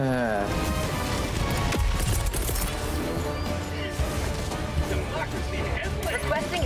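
Heavy gunfire and explosions crash continuously in the co-op shooter Helldivers 2, a loud, dense barrage with voices talking over the chaos.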